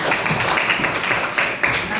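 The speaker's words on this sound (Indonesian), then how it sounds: "Beri tepuk tangan kepada Kanaya yang" A classroom of children claps together for a student, a dense, steady patter of hands filling the room without a break; no one speaks over it.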